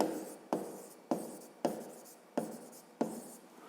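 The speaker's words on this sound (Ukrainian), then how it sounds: "Записуємо тоді розв'язання." Pen writing out a grade 5 math solution by hand on paper, heard close and quiet as a regular series of six sharp strokes, each starting with a tap and trailing off into scratching.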